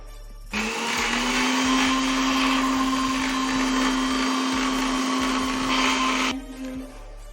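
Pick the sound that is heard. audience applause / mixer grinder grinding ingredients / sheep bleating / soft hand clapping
mixer grinder grinding ingredients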